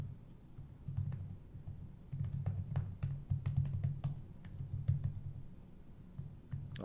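A computer keyboard clicks steadily and close as someone types a router access list. The keystrokes are soft but distinct, falling in irregular runs with a low hum underneath.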